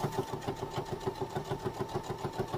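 A sewing machine stitches around a curve on a small elf gnome's fabric shoe, giving a fast, even, pulsing mechanical whir that runs without a break at moderate volume.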